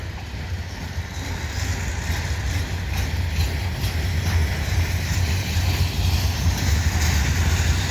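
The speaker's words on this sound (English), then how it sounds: "This looks like mostly a grainer train." A CN mixed freight train, mostly grain cars, rolls past at St Henri, a steady, broad rumble and clatter of wheels that holds at an even level throughout, heard fairly close with no voices.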